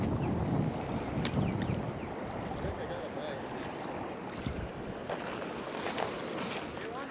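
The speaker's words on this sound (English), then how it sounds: "There's a lot of water flowing through." Fast-flowing water below the Ogallala dam, a broad, constant rushing wash at moderate distance, fairly faint and steady throughout, with occasional light knocks and wind buffeting.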